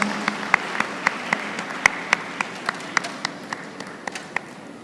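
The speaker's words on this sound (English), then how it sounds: "Let's give her a huge round of applause." Applause at a university convocation ceremony: evenly spaced sharp claps ring out over a soft wash of diffuse clapping, fairly near and steady throughout.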